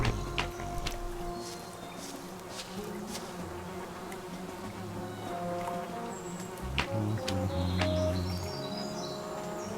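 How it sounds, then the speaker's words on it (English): A swarm of bees buzzes in a video game, a continuous droning hum with shifting tones, close and steady throughout, with occasional faint chirps and clicks. "A swarm of bees is coming after Teku."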